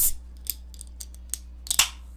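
A Snack Crate snack box package is torn and crinkled open in a few sharp, close rustling bursts over a quiet room hum, with the loudest tear near the end.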